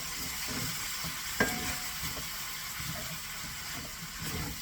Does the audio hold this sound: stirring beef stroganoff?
yes